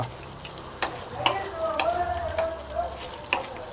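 Pork curry fries in a pan while a spoon stirs it, making a steady soft sizzle with a few sharp scraping clinks of the utensil against the metal. The sound is close and fairly quiet, with no talking.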